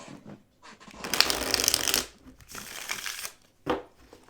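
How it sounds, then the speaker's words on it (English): A deck of cards is riffle-shuffled once, a loud crisp flutter lasting about a second, followed by softer shuffling and handling sounds and a final short snap, close and with no talking. "She shuffles the deck once."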